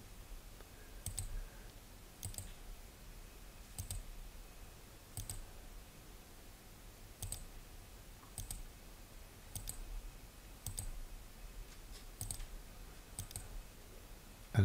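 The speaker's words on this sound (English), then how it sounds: "this is just made up of a series of left clicks" Faint, sharp computer mouse left clicks sound at irregular intervals of about a second while working in embroidery software, each a crisp isolated tick over quiet room noise.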